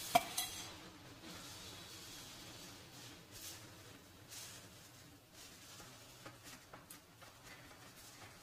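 Fine semolina (rava) dry-roasting in a pan, with steady soft scraping and stirring plus occasional light clinks of a spoon against metal, close and fairly quiet with no talking.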